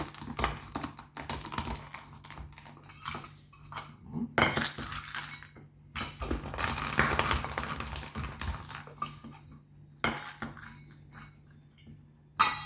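Almonds are crushed between two saucepans of different sizes, producing irregular metallic knocks, scrapes and clinking crunches in bursts with short pauses between them, close up and without talk.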